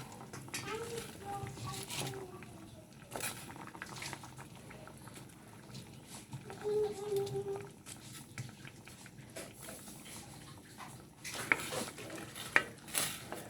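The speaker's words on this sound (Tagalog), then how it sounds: "Ihalo na ko na ang kalabasa at sigarilyas dahil malambot na yan." A spoon stirs squash and winged beans in a cooking pot, giving soft scraping and wet shuffling strokes at a steady pace, with faint bubbling beneath and occasional louder clinks near the end.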